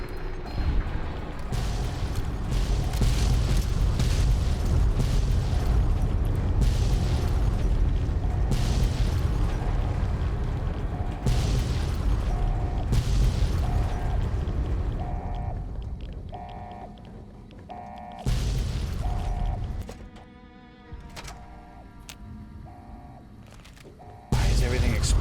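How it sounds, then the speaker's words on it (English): Explosions and gunfire in the post-apocalyptic game Fallout: Tale of Two Wastelands, a dense, roaring wall of blasts and rumble that drops away briefly near the end before a final loud burst. "Why is everything exploding?"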